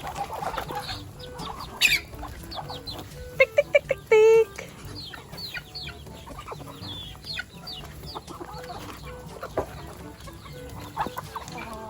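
Chickens and ducks clucking and calling while being fed rice bran and grated coconut on a farm, with several short loud squawks near the start and steady farmyard chatter under people talking.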